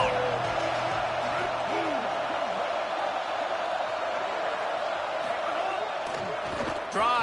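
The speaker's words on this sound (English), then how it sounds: "Crowd getting this defense whipped up on 3rd down." A steady stadium crowd roar rises on third down in an Ole Miss v Mizzou college football video game, loud and continuous throughout, with a commentator talking over it.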